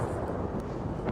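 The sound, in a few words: explosion in the video game Destiny 2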